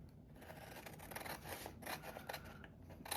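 Scissors cut out paper tickets made from tie-dye paper, the blades giving quiet, close snipping and rasping strokes in an uneven run, with no voices.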